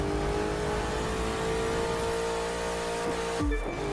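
A race car in The Crew 2 racing video game revs hard, with a loud, continuous engine drone and shifting tones that climb steadily, then a sharp pitch drop near the end.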